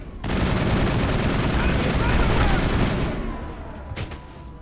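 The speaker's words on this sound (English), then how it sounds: "Stop shooting at me." Sustained rapid gunfire crackles loudly in a Mass Effect firefight, a dense fusillade of automatic shots that tapers off after about three seconds, followed by a couple of isolated bangs.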